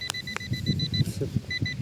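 An Equinox 800 metal detector on a beach gives a run of sharp, repeated electronic beeps, pausing in the middle and then resuming, over low rustling and handling noise close by.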